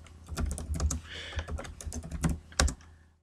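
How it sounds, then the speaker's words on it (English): Typing on a computer keyboard, a rapid irregular run of close, crisp key clicks and thumps with brief pauses, heard in the background of a gaming session. "Do not notice the typing in the background."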